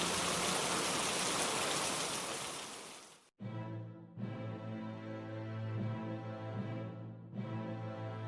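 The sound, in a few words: rain falling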